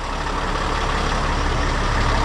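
A fully loaded tractor trailer truck's heavy diesel engine rumbles as the rig pulls forward, a loud, continuous low drone that swells slightly with no speech.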